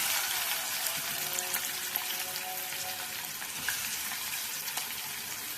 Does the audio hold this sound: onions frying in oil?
yes